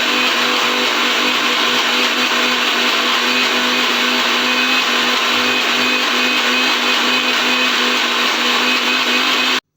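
Mixer grinder running continuously and loudly, grinding onions and hibiscus flowers dry without any water, a steady whirring motor drone with a constant hum throughout and no voices.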